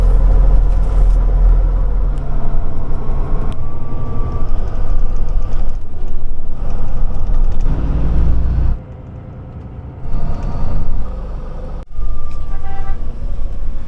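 A bus travels north along the coast near Phan Thiết, Vietnam, with a steady loud engine and road rumble throughout, a couple of brief dips in level, and faint horn toots in the background.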